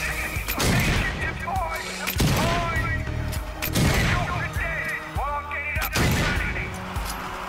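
Bursts of gunfire in the zombie shooter Zombie Army 4: Dead War come in loud rapid volleys with short pauses, mixed with game effects and a voice calling out in between.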